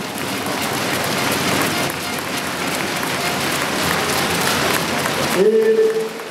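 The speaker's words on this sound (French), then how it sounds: "on peut les applaudir bien évidemment" An audience claps in a dense, even wash of applause that holds steady for about five seconds, then stops abruptly and gives way to a brief tonal sound.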